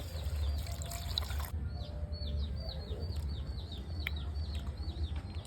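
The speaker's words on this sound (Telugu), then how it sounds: "దీంట్లో కొన్ని నీళ్ళు పోయాలి" Water pours into a cooking pot for village-style ragi sangati with country rooster, a brief rushing splash at the start, then birds chirp steadily over a low outdoor hum.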